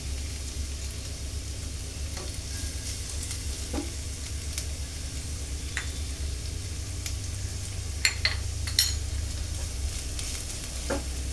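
Chopped garlic added to browned onion and chicken mince sizzles steadily in a pan for a Bengali bhindi keema, with a soft continuous fry and occasional light clinks of a stirring spoon.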